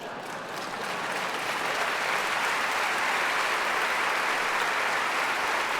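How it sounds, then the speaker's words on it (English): A large audience in Porto, Portugal claps steadily as a dense, even wash of applause that swells slightly at the start and then holds at full strength throughout, with no voices on top. "And for this they applaud."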